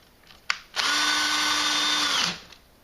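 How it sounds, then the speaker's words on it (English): A power drill drives a screw into a door hinge during a door installation with hands-free dollies, one steady high whine of about a second and a half after a short click, close and loud, with no talk. "so I can very easily get a screw in"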